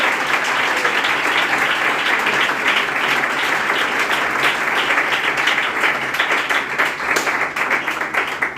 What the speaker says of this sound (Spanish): Mejor aplauso que tengas para Dios.